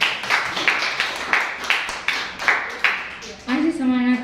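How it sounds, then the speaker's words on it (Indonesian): A student audience at a campus election debate for a student association's chair and vice-chair claps in a steady, rhythmic beat. The claps are close and fairly loud, then taper off as a voice begins speaking. "Beri tepuk tangan terlebih dahulu dong."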